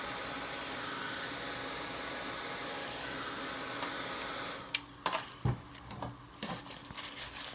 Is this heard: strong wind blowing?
no